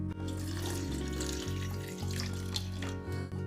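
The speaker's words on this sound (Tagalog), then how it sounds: "At magdadagdag ako ng halos 1 tasang puno ng tubig." About a cup of water is poured into a small saucepan holding fat for an arnica and rosemary ointment, making a steady, continuous pour that runs unbroken for several seconds, close and clear with no talking.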